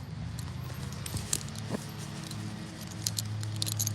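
Goat leashes are gathered up and jangle with light metallic clinks and rattles, close by over a low steady hum, with a couple of sharper knocks.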